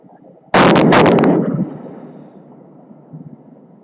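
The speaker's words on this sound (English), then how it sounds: "hopefully the sonic boom will play through" A space shuttle's sonic boom captured through a telescope setup, as two loud sharp booms close together, followed by a long fading rumble with a softer thump near the end.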